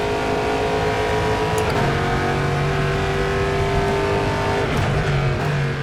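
A GTE race car's engine revs hard and steadily in the sim racing game rFactor 2, a loud, sustained high-pitched drone with brief shifts in pitch as gears change, and no voices over it.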